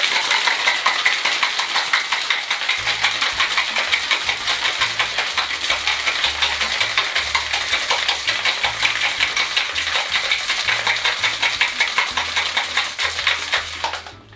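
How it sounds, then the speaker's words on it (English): Ice rattles hard inside a cocktail shaker while a Barbados rum punch with Angostura is shaken, a rapid, steady, loud clattering rhythm lasting over ten seconds with a faint low hum underneath. "Now put your lid on and give it a nice hard shake for 8 to 10 seconds to get it nice and chilled."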